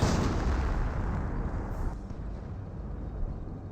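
An off-map artillery barrage in the Company of Heroes strategy game rolls in as a dense, loud wash of overlapping blasts and rumble, gradually thinning toward the end with no talking.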